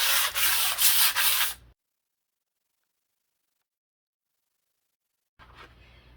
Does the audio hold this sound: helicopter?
no